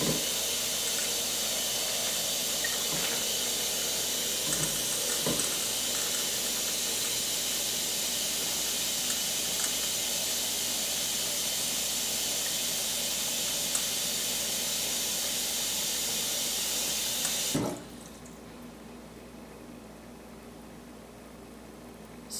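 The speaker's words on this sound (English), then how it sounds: "So you fill it up with water." Tap water runs steadily into a pot for dried chickpeas, a constant close hiss of filling that lasts about seventeen seconds and then cuts off abruptly as the tap is shut.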